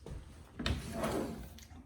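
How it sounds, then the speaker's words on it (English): A dovetail drawer in a house slides open and shut, a short soft wooden scrape and rumble with a light knock, quiet and close. "Dovetail drawers, very nice."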